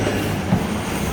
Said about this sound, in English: This is the Go train.